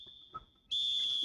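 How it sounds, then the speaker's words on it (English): Referee's half-time whistle in the football video game eFootball 2025: a faint thin tone followed by a loud, sustained shrill blast that holds to the end, alone with no voices. "And the half-time whistle goes."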